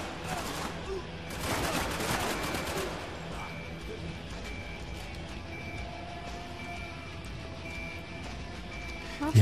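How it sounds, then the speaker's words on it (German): Single-shot gunfire rings out in the video game Spec Ops: The Line, played in co-op: a quick cluster of sharp shots in the first few seconds, then quieter game ambience. "Eigentlich ist das Einzelschuss, was ich gerade mache"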